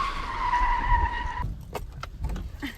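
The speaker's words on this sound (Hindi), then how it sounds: "ड्राइवर रोक देवे कन 2 मिनट गाड़ी।" A car braking to a halt, a sustained tonal brake squeal for about a second and a half, then clunks and rattles as it settles, close and fairly loud.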